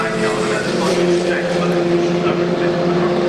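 Historic Formula Ford race cars compete at Silverstone, their engines giving a sustained droning buzz that holds steady at close range, with a race commentator talking continuously over the top.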